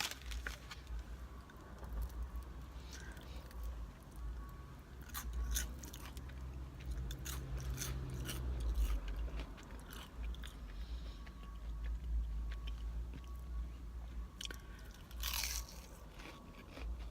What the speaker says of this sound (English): Crispity, crunchy pastry.